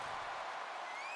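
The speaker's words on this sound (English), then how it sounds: "As you can hear the crowd" A wrestling arena crowd roars and cheers in a dense, sustained wash of noise.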